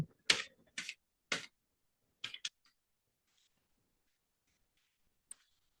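A password typed on a computer keyboard: a handful of sharp, close key clicks in quick bursts, then a long hush broken by one last isolated tap, all fairly quiet.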